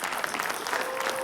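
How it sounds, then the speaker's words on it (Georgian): A live audience applauds at a Georgian singing performance, a dense, steady patter of many hands clapping at once, filling the whole short stretch without any pause. "აპლოდისმენტები"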